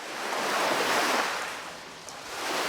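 Sea waves roll and wash in a steady, full surf rush that swells and eases slightly, loud and close with a touch of wind, no voices, as a cartoon effect.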